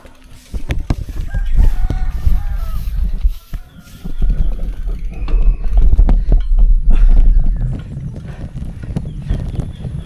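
Chickens cluck and crow amid a busy outdoor mix of rumbling and clattering noise, with calls scattered throughout at moderate loudness.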